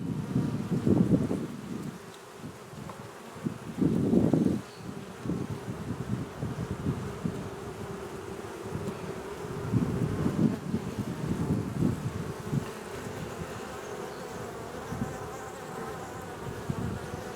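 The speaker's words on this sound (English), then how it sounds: "We don't stress our bees out" Honey bees buzz steadily around a hive in a dense, continuous drone, with a few louder passes as bees fly close to the microphone.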